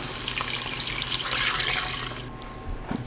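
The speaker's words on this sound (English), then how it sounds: "now we're going to add the rest of the chicken broth" Chicken broth poured into a pot for pumpkin soup, a loud continuous splashing stream that runs for a few seconds, then cuts off.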